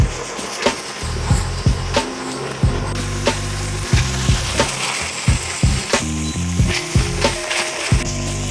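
Longganisa sausage sizzling in a dry pan with no oil, a loud steady fry broken by repeated scraping and stirring thuds.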